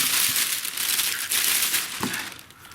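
A small branded plastic gift bag packed with a string trimmer crinkles and rustles loudly and continuously as it is handled and opened close to the microphone.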